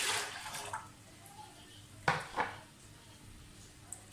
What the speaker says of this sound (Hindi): तकरीबन 1 लीटर मैं इसमें पानी डालूंगी